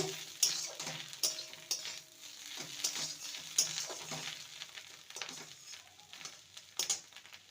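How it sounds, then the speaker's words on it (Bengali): Cooked kakrol with slit green chilies stirred in a pan, a soft sizzle under recurring spatula scrapes and light clinks on the pan, fairly quiet and close. "কাঁচা লঙ্কা দিয়ে আরও দু মিনিট নেড়ে নিয়েছি"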